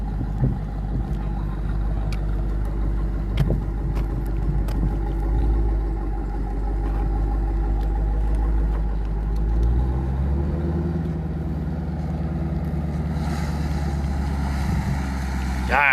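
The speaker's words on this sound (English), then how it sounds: "See what this truck we did little tune on does." Tuned truck engine on a track rumbles loud and steady, its tone rising as it accelerates toward the end.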